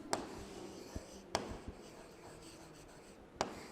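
Pen writing out the solution to a class 5 maths addition problem, a faint scratchy rustle on paper broken by a few sharp taps of the pen.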